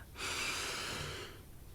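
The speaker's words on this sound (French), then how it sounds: "On inspire." A single deep inhalation taken during a guided sophrology relaxation exercise, a steady airy breath in lasting about a second, close and alone with no talking.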